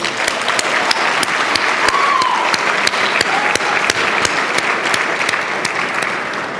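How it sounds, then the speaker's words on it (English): Loud, sustained audience applause for sponsors at the Cleveland Jewish News 18 Difference Makers 2019 awards ceremony, many hands clapping steadily with crisp individual claps close by and a faint voice briefly heard beneath. "Absolutely, you can applaud for our sponsors."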